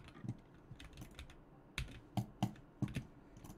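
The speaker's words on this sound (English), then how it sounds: "Right, butterfly clicking." Rapid butterfly clicking on a computer mouse while playing Bedwars on a stream, bursts of quick close clicks with a few louder taps over a low background, no talking.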